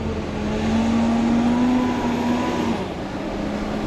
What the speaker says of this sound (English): Just wait for this loud Max Force to leave.